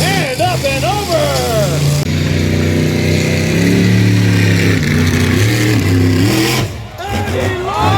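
A monster truck engine revs hard and launches at a Monster Madness show. Loud, surging engine roars rise and fall under an excited announcer's voice over the arena.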